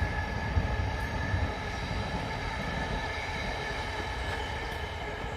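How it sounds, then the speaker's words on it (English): A train passes outdoors as a steady, dense rumble with faint wheel squeal, moderately loud and continuous throughout, with no talk. "sorry, there's a train."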